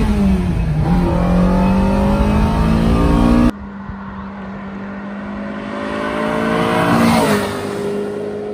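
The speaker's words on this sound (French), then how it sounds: "je pars en première. Alors je pars en roulant pour pas abîmer l'embrayage et je mets le pied dedans." A Ferrari 308 GTB Vetroresina accelerates hard in first gear, its engine note climbing loudly from inside the car, dropping at a cut, then rising again with a rising whine before easing off.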